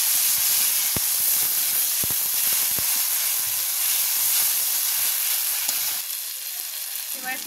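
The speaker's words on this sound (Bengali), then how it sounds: "এবার বেটে রাখা কাজু বাদাম আর পোস্তটা দিয়ে দেবো, দিয়ে ভালো করে কষিয়ে নেব।" Ground cashew and poppy seed paste fries in a pan with a little sugar, producing a loud, continuous hissing sizzle with a few sharp spatters and scrapes that eases slightly near the end.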